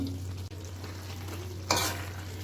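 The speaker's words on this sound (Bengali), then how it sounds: "ঘিয়ের চামচটা দিয়ে নাড়িয়ে নিলাম" Cabbage curry with ghee and garam masala is stirred in a pan with a spoon, a soft sizzling scrape over a low steady hum, ending in one brief louder scrape.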